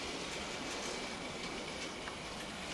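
An N gauge model train locomotive hauls car carrier wagons, giving a steady, faint, continuous rolling hum and whir with light rail noise and no talk.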